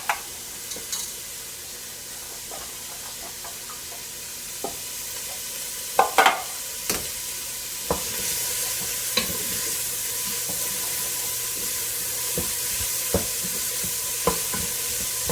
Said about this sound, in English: we're just going to saute our garlic and onions till they're soft